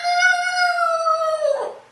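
A single drawn-out, tonal crow mimicking a rooster, close and clear, with a slight drop in pitch and a raspy ending.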